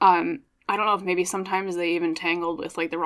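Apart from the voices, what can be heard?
None of the usual background noises is heard.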